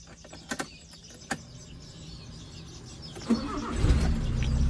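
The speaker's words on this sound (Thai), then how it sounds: "เรามาฟังเสียงเครื่องยนต์กันดีกว่าพี่" An old Nissan B11 car engine idles steadily with a low rumble, a few sharp clicks and knocks early on, and the revving swelling louder toward the end.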